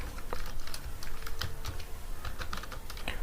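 Fingers type out a JavaScript script tag on a computer keyboard, with a dense, close, continuous patter of light key clicks and no talking.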